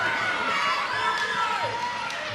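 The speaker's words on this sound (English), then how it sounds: "The crowd here at Mackay loving it. Absolutely loving it." A packed crowd at a fight night in Mackay keeps up a steady, loud roar of cheering and shouting, sustained without a break.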